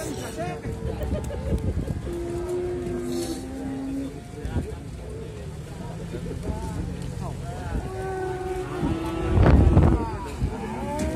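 Simmental cattle low at a livestock market, several long moos rising over a busy background of people talking, wind buffeting and truck noise.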